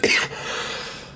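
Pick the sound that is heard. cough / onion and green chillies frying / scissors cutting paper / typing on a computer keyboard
cough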